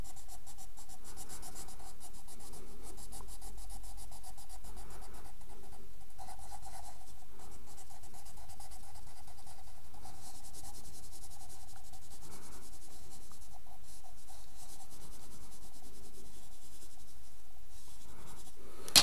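A pencil shades the side view of a square-base pyramid drawing, its soft scratchy strokes rubbing steadily back and forth on paper, close and quiet, with no talk.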